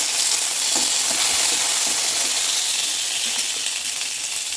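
Garlic and curry leaves fry in hot oil in a pan, a loud, bright, steady sizzle with faint crackles, heard up close and alone for several seconds.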